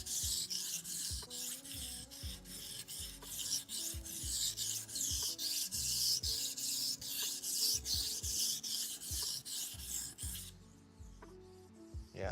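A blade is sharpened by hand on a stone, rapid rhythmic scraping strokes repeating steadily and close for about ten seconds before easing into quieter, slower rubbing.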